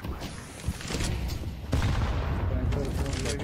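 Gunfire in a Counter-Strike 2 match on the Mirage map: a dense, loud burst of rapid shots and booming reports that continues steadily with a sharp, heavier blast midway.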